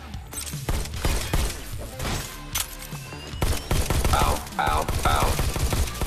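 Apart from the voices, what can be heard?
shotgun fire in the VR video game Robo Recall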